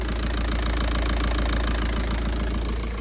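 A VW Passat B5.5 with the AWX PD130 diesel engine idles after a turbo change, a close, steady low rumble with an even rapid diesel knock throughout.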